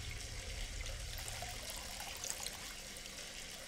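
Bath water runs steadily from a tap in a horror video game, a continuous trickling wash with a low rumble that holds even for the whole stretch, with no talking.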